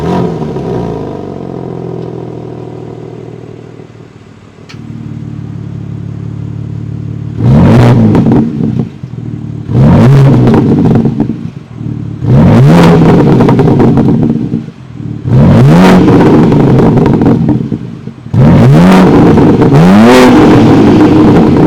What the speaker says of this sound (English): that was the sound of the monster S58 3-liter twin-turbo inline 6-cylinder sold by BMW